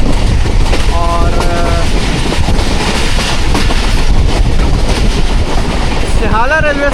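The 46 Town Pakistan Express rushes through Sihala railway station on a rainy early morning: loud continuous rumble and clatter of wheels close by, brief squealing tones, with voices faintly mixed in.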